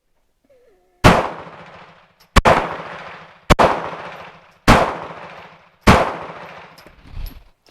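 Five sharp pistol shots fired at a target at an outdoor range, each a loud close crack with a ringing decay, spaced about a second apart, with a brief spoken remark between them.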